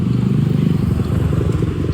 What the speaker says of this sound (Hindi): देखिए 1-2 बाइक पे डिलीवरी आने लग गई है